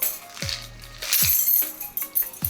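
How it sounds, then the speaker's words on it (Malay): Keys on a retractable carabiner keychain with a thin wire cord are pulled out and snap back, giving several sharp metallic clinks and jangles at close range, spaced irregularly, with no voices. "dekat bahagian ring ni kita boleh main tarik-tarik"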